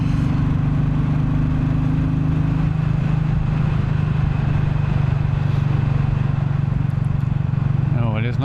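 A Royal Enfield Bullet 350 motorcycle engine runs steadily while riding, a loud continuous low thrum with rushing wind noise; a steady tone drops away partway and a brief higher sound rises near the end.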